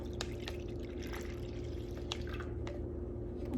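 Breast milk poured into a baby bottle, a faint trickle with a few small drips and splashes against a steady background hum.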